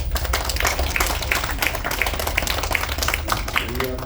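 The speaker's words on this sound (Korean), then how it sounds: "박수 한번 해주시고요" A Korean mission conference audience aboard an MSC cruise ship claps in a steady, dense patter with some sharper taps, while voices murmur underneath throughout.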